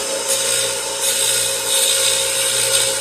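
A Sellers 4G drill grinder runs with a steady, loud grinding whir, with rhythmic rasping swells as a drill bit is swept and rotated against the spinning wheel.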